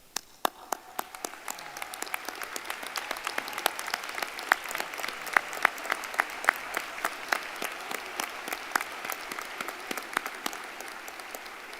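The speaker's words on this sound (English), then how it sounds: "please stand and join me in a round of applause." An audience at a commencement ceremony applauds steadily, scattered claps building into a full, sustained round of clapping that carries on for several seconds.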